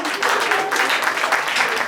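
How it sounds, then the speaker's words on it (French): Wedding guests applaud the newly married couple with dense, steady clapping that holds at an even level for the whole two seconds, with voices mixed into the crowd noise. "On applaudit pour eux."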